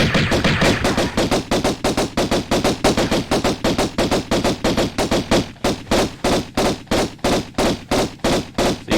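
Automatic gunfire from Tomb Raider aimed at a cowboy enemy: a long, steady string of loud, evenly spaced shots, about four per second, continuing without pause for the full stretch with no talking.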